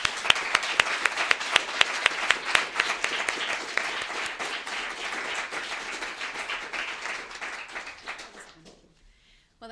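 An audience applauds student writers at a literary reading, a dense steady patter of many hands with a few sharper claps, tapering off and fading to near silence at the end.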